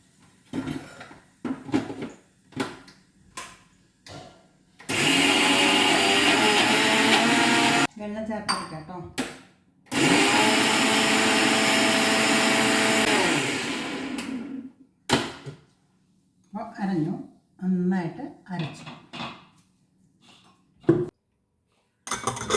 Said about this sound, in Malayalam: അതുപോലെ തന്നെ ഒരു കാൽ ടീസ്പൂൺ മുളക് പൊടി ഇട്ടിട്ട് അരക്കും നന്നായിട്ട് അരക്കണം